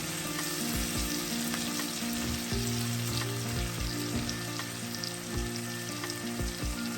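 Onions and spices sautéing in a pan for a Sri Lankan chicken liver dish, a steady close sizzle with soft rhythmic stirring knocks, under a low constant hum, no voices.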